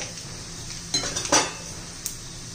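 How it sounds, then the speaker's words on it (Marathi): A spoon knocks and scrapes against a pan while two spoonfuls of onion-garlic masala go in for a dry drumstick (shevga) bhaji, giving a few close metallic clinks and a brief scrape over a faint low background. "कांदा लसूण मसाला घालते 2 चमचे"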